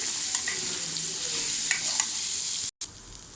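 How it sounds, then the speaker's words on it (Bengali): Steady high sizzling of garlic, onion and ginger frying together in a pan, with a few soft stirring scrapes and a brief dropout near the end. "রসুন, পেঁয়াজ, আদা সব কিছু একসাথে দিয়ে ভেজে নিব আমি।"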